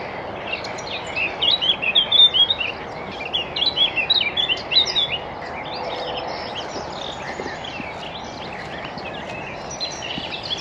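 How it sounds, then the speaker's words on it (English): Many birds sing and chirp together in an outdoor park setting, a dense chorus of overlapping high tweets that swells loudly then continues more softly over steady background noise. "I don't think I've heard so many birds."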